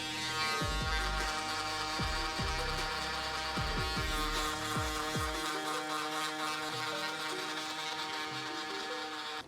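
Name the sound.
electric shaver used in a men's haircut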